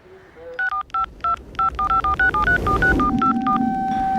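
A phone being dialed: a rapid series of about a dozen touch-tone beeps, evenly spaced, followed by a steady ringing tone.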